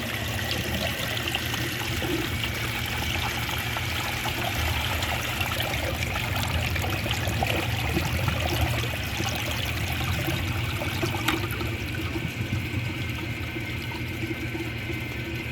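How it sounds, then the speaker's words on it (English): A 1973 VHP toilet flushes during a clog test, water rushing and trickling steadily for the whole stretch at close range, with no voices. "So it's about time for that one to have its last flush."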